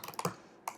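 A handful of crisp computer keyboard keystrokes sound close and quiet while code is typed, a quick cluster followed by a brief gap and one more key press.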